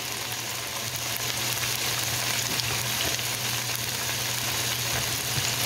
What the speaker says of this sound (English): And then we're gonna add our onions